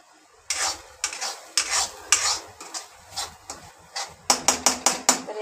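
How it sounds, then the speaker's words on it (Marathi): Cooked chickpeas and potatoes being stirred into an oily masala in a pan, spoon scraping and clinking against the metal in repeated strokes, close and clear, with a quick run of scrapes near the end. "हे शिजवून घेतलेले छोले बटाटा तर हे याच्यामध्ये टाकून घ्यायचे आपल्याला"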